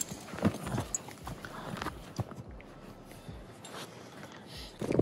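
Horse hooves clip-clop at an uneven pace on a hard surface, fairly close, with rustling and handling noises between steps as the horse is saddled, in Kyrgyzstan.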